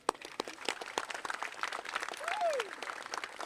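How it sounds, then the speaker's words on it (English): Clapping and cheering from a press-conference audience in Toronto, a scattered burst of applause with a brief whoop rising over it. "So guys, we're going to give her a big cheer."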